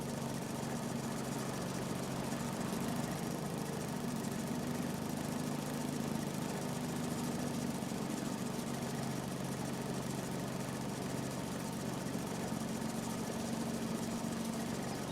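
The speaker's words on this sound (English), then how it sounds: "Yes, that tractor definitely does sound really good." A four-wheel drive tractor engine idles in a farming video game, a steady low rumbling drone with an even hum, faint and continuous throughout without voices.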